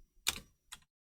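Two quiet, crisp key clicks on a computer keyboard as a command is typed, the first slightly stronger, with a short gap between them in an otherwise silent room.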